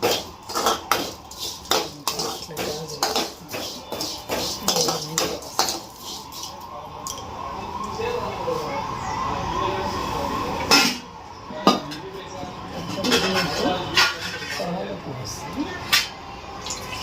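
Repeated scraping and clinking of a utensil stirring vermicelli in ghee in a pan, irregular strokes close by, with a soft frying sizzle underneath.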